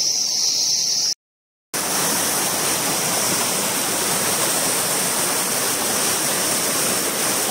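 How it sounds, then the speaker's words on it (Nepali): A cold, clear mountain stream near Dhampus in Nepal flows with a loud, close, continuous rush of broadband water noise that is steady throughout, broken only by a brief dropout near the start, with no voices. "खोला को आवाज आइरहेको छ हेर्नु होला"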